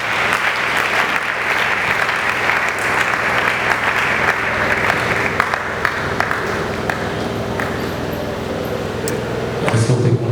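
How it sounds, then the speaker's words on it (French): A church congregation at a Sunday service applauding, sustained loud clapping from many hands that fades slightly toward the end. "Acclamons la parole du Seigneur."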